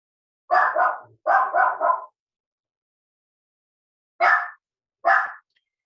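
A small dog barks in short bursts nearby: a quick pair, then a rapid run of three, a long pause, then two more single barks in an otherwise quiet room.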